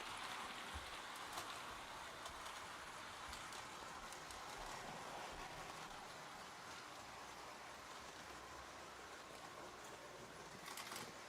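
A Lionel/MTH standard gauge model train runs steadily on its track, making a faint, continuous hissing rumble of wheels with occasional light clicks, steady and unbroken for about eleven seconds.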